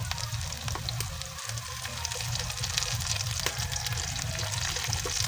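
Garlic and onion sautéing in a pan with shrimp paste added, a steady soft sizzle and crackle of frying with small pops, close and fairly quiet, no voices.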